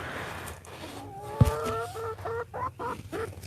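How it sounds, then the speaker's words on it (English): Hens cluck and chatter close by, a string of drawn-out, wavering calls followed by short clucks, with one sharp knock in the middle and no speech. "And if you hear any chickens in the background"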